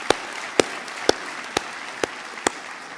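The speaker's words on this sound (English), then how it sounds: "please join me in really applauding the great work that has been done" Applause for the university during a public lecture by the Deputy President, heard as a soft steady wash of distant clapping with six loud, evenly spaced sharp claps standing out close by.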